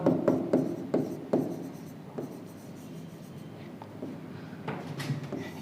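Chalk or marker writing a formula on a classroom board, a few sharp taps and scratchy strokes up close, then quieter irregular marks with no talking.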